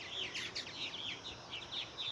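Fledgling purple martins coming in to roost give a rapid series of thin, high chirps and twitters, several birds calling at once over faint background noise, steady throughout.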